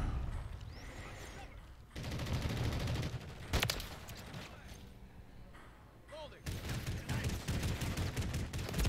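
SAB-50 gunfire fills a Call of Duty match in dense, repeated bursts, with one sharp crack standing out, loud and close throughout.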